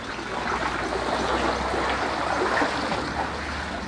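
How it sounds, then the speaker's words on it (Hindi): Hot sulfur spring water flowing out of a hillside at a shrine, a steady close rushing trickle that stays even throughout with no talking. "वली भाई हमारे लिए दिखाएंगे कि पानी कहाँ से निकल के आ रहा है"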